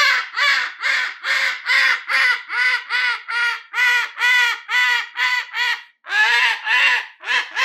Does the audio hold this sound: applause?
no